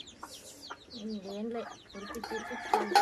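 Domestic chickens cluck in a village household setting, a few short calls and soft clucks mixed with other faint bird sounds and brief household noise nearby.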